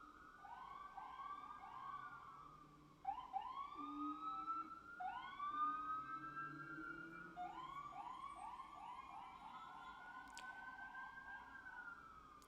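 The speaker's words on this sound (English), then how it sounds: "What is with these sirens today," Several sirens wail in the distance, their rising and falling tones overlapping continuously against a quiet background.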